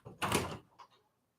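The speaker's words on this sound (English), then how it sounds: "Please stop digging on the door." A cat scratches at a door: one broad scraping rasp lasting under half a second, then a couple of softer, fainter scuffs, close by in a quiet room.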